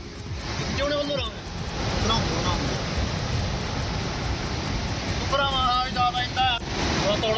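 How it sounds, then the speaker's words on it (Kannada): Flooded rivers roar in Dharamshala, a loud, continuous rushing wash of water with wind-like noise, while a voice speaks over it in places. "ಧರ್ಮಶಾಲಾ ಪ್ರದೇಶದಲ್ಲೂ ನದಿಗಳು ಅಬ್ಬರಿಸ್ತಾ ಇದೆ"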